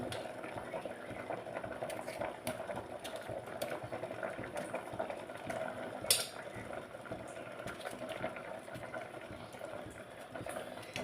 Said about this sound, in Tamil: இந்த பருப்போடு அந்த கீரையும் தக்காளியும் நல்லா வேகட்டும்